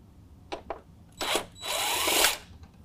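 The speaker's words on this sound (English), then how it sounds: "Now we're going to use an 8 millimeter to loosen up this bolt right here." Power tool with an 8 mm socket loosening a bolt on a Ford F-150 truck grille, two short whirring bursts followed by a longer steady whir, fairly quiet with nobody talking.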